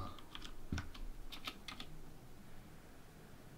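Quiet typing on a computer keyboard: a few quick, irregular bursts of crisp key clicks in the first two seconds, followed by near silence, with no talk.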